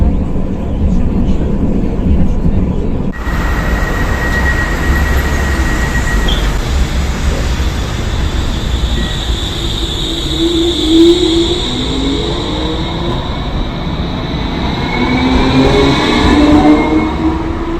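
A city tram running through Sarajevo, Bosnia, with a steady low rumble and rolling rail noise throughout, rising squeals and whines from wheels or motors toward the end; a brief voice is heard early on.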